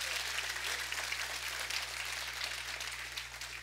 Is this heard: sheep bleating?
no